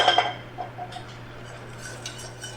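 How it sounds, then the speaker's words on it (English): A whisk clinks quickly against a metal pot of sauce for macaroni and cheese in light taps, then settles into a soft hum with a few faint scrapes. "We're going to whisk pretty vigorously here."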